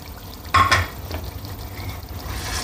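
Spices roasted in a karahi, with one sharp utensil clank against the pan followed by soft scraping stirs and a faint, low sizzle.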